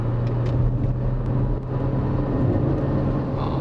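A 2024 Renault XM3 TCe 260 accelerates in the first lane, heard from inside as a steady low engine and road rumble.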